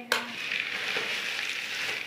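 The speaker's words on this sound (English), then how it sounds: "She must have practiced stirring." Crackers and chocolate raisins are stirred in a bowl by a child, making a continuous dry rustling, rattling crunch close by, opening with a sharp clink, no talking.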